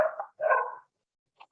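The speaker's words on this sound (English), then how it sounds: "If you can hear a puppy barking in the background" A 12-week-old golden retriever puppy gives two short, sharp barks close by, followed by a brief faint yip after a pause.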